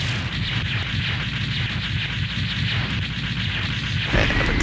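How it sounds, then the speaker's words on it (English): The boss Slash Beast explodes in the video game Mega Man X4, a continuous dense rumbling blast of game explosion noise that holds steady and loud throughout, with a sharper burst near the end. "And Epic Explosion."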